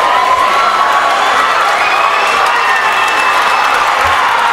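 A crowd at a high school wrestling dual meet cheers and shouts loudly and steadily, a dense roar of many voices with whoops and children's cries, filling an indoor gym.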